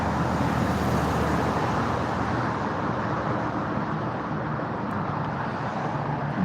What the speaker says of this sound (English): There went number 4 Dalton Police Department vehicle.